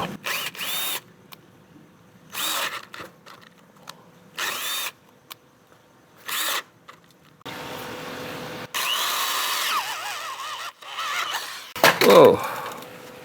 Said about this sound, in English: I'm going to use like a 3/8 or a 1/2 inch drill to go through that.